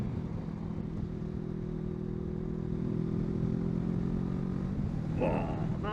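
A motorcycle engine drones and revs nearby, a steady loud mechanical rumble that climbs in pitch, with a voice breaking in at the end.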